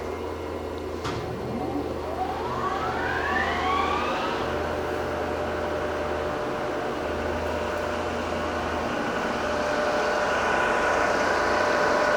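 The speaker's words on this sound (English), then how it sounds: "you can hit the start button a second time and it will start the grinding wheel" A grinding machine's motor starts its grinding wheel; the machine has new motor belts and a hydraulic dresser. A whine climbs steadily in pitch for a few seconds, then settles into a loud, continuous running hum.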